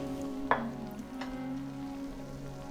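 Powdered spices, coriander, turmeric and chili powder, frying in a pan for Kerala chicken curry, a soft steady sizzle with a brief scrape or clink early on and a low hum underneath.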